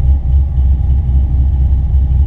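A 1965 Chevrolet Chevelle idles with a mild cam, its engine giving a deep, steady, gently loping thump that is loud and close with no talk over it.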